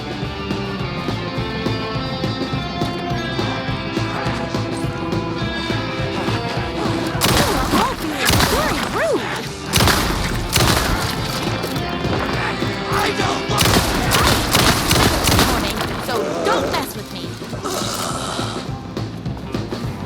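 Gunfire in the video game Alan Wake 2, during the Night Springs episode Number One Fan: dense, loud bursts of shots and crashing impacts over a steady game soundscape, with no talking.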